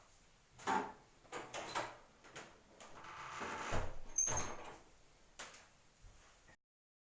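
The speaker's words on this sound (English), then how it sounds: "Just close the door." An interior bathroom door is shut with a few knocks and latch clicks, followed by brief handling noises, close and moderately loud in a small room.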